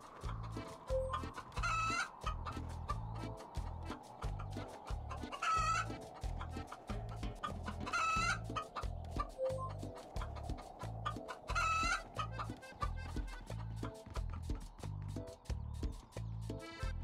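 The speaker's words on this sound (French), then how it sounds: "Ils en ont tous marre de cette poule." Hen clucking in the video game SOPA: Tale of the Stolen Potato, repeated clucks and squawks in steady bursts over a looping rhythmic game soundtrack, clear and prominent without talk.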